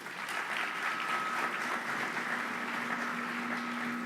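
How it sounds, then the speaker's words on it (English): Students at a school honors night applaud their parents, producing an even, sustained wash of clapping across a large hall, fairly distant and steady in level. "Students, let's give your parents a big round of applause."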